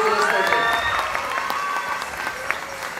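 Audience applause at a company presentation honoring a junior enterprise and its tutors, sustained clapping from a room of people with a few voices and whistles mixed in, fairly close and even throughout.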